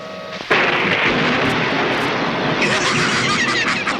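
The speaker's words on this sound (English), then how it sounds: "I'm going to try and attract the lightning right now." A lightning strike drawn down by an electricity machine in a sitcom lands with a sudden sharp crack followed by a loud, sustained rumbling crash that rolls on for several seconds.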